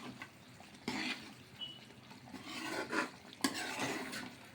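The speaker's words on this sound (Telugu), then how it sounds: "ఇలా కలుపుతూ ఉడికించుకోవాలి, ఎందుకంటే మనం జీడిపప్పు వేసాం కదండి, అందుకని అడుగు పట్టే ఛాన్సెస్ ఉంది" A spoon stirring cashew paste cooking in oil in a pot, with soft scraping strokes and occasional clinks over a faint low sizzle, fairly quiet and close.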